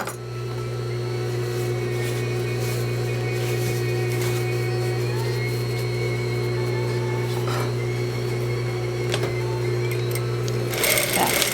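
Sewing machine back stitching the seam of a dining chair slipcover, a steady close mechanical whir with a rhythmic needle clatter running continuously for over ten seconds, with a brief louder rattle near the end.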